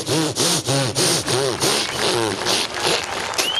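A human voice imitates a saw blade cutting plywood as part of a comedy act, making rapid rhythmic rasping strokes that rise and fall in pitch and stay loud and close.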